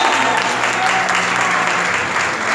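Church congregation gives an offering of applause to the Lord, loud, dense, steady clapping from many people, continuous, with a faint voice or sustained tone underneath.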